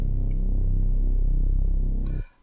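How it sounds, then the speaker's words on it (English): Deep, detuned Reese bass one-shot from a beat, a thick, wobbling low drone held for about two seconds before fading out, heard alone and upfront. "It's just a normal Reese bass"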